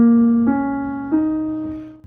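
Piano plays a few notes of a pentatonic scale on the black keys, three clear struck tones in slow succession, each ringing out and decaying, heard alone.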